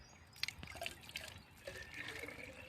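A pesticide bottle is rinsed out with water during crop spraying preparation: soft, close splashing and dripping with small sloshes, quiet and continuous over a few seconds.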